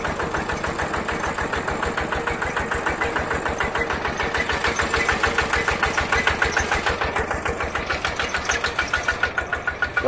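A 2011 KRT140 Plus walking tractor with a hand-start engine runs at a steady idle, its single-cylinder diesel chugging in a fast, even, loud thump close by, alone without talk.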